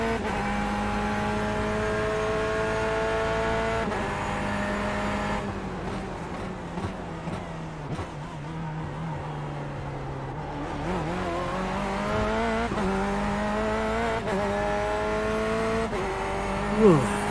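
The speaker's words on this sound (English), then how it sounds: "Chris, there's a faster car bearing down on you." Race cars in the iRacing simulation at the 12 Hours of Sebring, with a steady high engine drone that dips under braking and climbs again through the gears, plus shifting clicks and a passing car, no voices.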